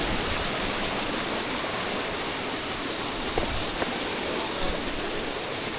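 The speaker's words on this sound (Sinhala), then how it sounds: "මෙතනින් තමයි පල්ලෙහාට බම්බරකන්ද දියැල වැටෙන්නේ" Water pours over the top of Bambarakanda waterfall in Sri Lanka in a steady, broad rushing roar. It sounds close and even throughout, with a few faint knocks and no voices.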